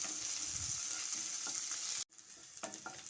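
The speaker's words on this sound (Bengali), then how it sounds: "একটা কুচিয়ে রাখা পেঁয়াজ দিয়ে দিচ্ছি দিয়ে একটু ভেজে নিচ্ছি" Chopped onion frying in a pan with ginger, garlic and green chilli, a steady close sizzle with brief stirring scrapes, a short break near the middle, then the sizzle resumes.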